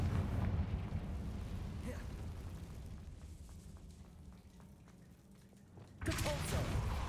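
A Confringo fire spell bursts in Hogwarts Legacy, a low rumbling explosion that fades gradually before a second sharp blast hits near the end.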